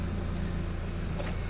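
Old car engine idling roughly on stale gasoline after sitting over a year and a half, nearly running dry, a steady close low rumble with a slight uneven wobble through the short stretch.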